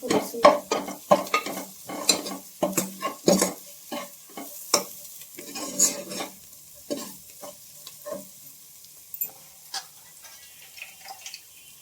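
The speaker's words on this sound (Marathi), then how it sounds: "मटकी चांगली ना तेलात परतून घ्यायची" Moth beans (matki) sautéed in hot oil in a pan, with a spoon stirring and scraping in quick irregular strokes over a light sizzle, close and moderately loud, with no talking.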